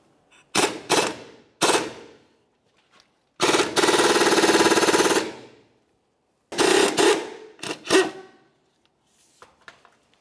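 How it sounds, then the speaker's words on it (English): Wrenches turn a control arm bolt on a 2001-2005 Ford Explorer Sport Trac: bursts of harsh metallic ratcheting and grinding, separated by pauses, loud and close, with a longer stretch of continuous rasping partway through. "I'll use an 18mm wrench to hold that nut and a 16mm down along the bottom to go ahead and turn the"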